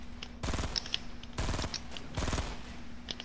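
Bursts of rapid automatic gunfire in a video game, three separate rattling volleys fired to shoot something down, with brief quieter gaps between them.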